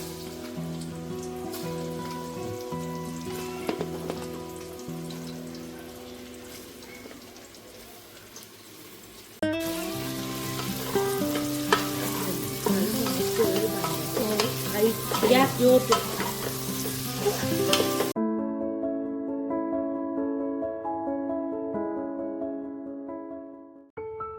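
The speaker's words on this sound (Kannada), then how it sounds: "ಮೂರು ಸ್ಪೂನ್ ತುಪ್ಪ ಮತ್ತೊಂದು ಮೂರು ಸ್ಪೂನು ಕೊಕೊನಟ್ ಆಯಿಲ್ ಹಾಕಿ ಗೋಲ್ಡನ್ ಫ್ರೈ ಮಾಡುವ" A pan of ghee and coconut oil sizzles steadily as food fries to golden, with bursts of crackling and stirring that grow louder midway before a quieter, cleaner sizzle at the end.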